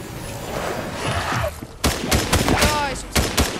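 Bursts of gunfire crackle around the player in a Fortnite match, with a quieter stretch of rapid shots followed by sharper, louder volleys and booms in the second half.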